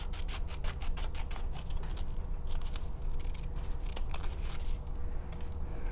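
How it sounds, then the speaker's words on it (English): Scissors snip along a dotted line to cut paper hands out of a sheet, a steady run of crisp, close cutting strokes with rustling paper and no talk. "Cut on the dotted line."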